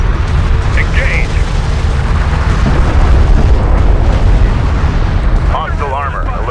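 Continuous heavy explosions and weapon fire striking armored vehicles in Homeworld: Deserts of Kharak, a dense rumbling barrage with booms throughout and radio chatter over it.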